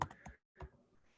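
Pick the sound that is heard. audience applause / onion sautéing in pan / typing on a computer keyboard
typing on a computer keyboard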